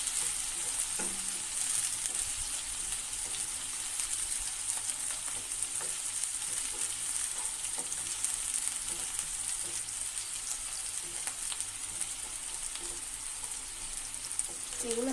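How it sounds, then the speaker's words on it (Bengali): Prawns fry in a pan with browned onions, giving a soft, steady sizzle that stays even and fairly quiet throughout, with a few faint stirring touches. "আমি চিংড়ি মাছটা দিয়ে দিয়েছি। এখন এটা সুন্দর করে ভেজে নেব।"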